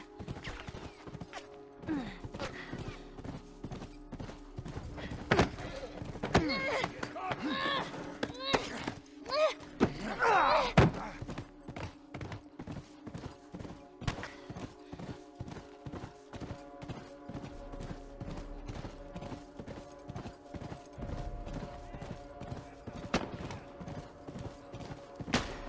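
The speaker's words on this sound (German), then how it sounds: "Komm schon, mein Pferdchen, lauf!" Horse hooves clip-clop rapidly and rhythmically in the video game The Last of Us, a steady galloping patter with occasional thuds, while voices talk over it at times.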